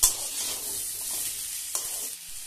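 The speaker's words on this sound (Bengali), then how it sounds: "টমেটোটাকে আলু ও উচ্ছের সাথে ভালোভাবে নেড়ে চেড়ে নিয়ে 5 মিনিটের জন্য একসাথে ভেজে নেব।" Cubed potatoes, bitter gourd and tomato frying together in a pan, a steady close sizzle with the scrape and shuffle of stirring, a sharp clatter at the start and no talking.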